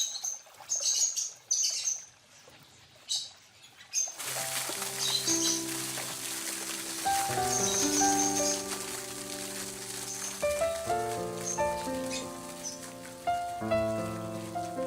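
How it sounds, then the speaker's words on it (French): Birds chirp and sing in the La Mortella garden, bright calls scattered over the first seconds, then continuing more faintly under soft music of sustained piano-like tones. "cela attire les oiseaux, et leur présence rend le jardin vivant et plein de musique."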